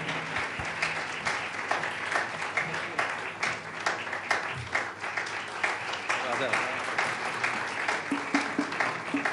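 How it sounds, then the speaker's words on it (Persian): At a music school concert, an audience applauds steadily after a singer is introduced, with quick, continuous clapping heard through the room alongside some talk. "تشویق بفرمایید."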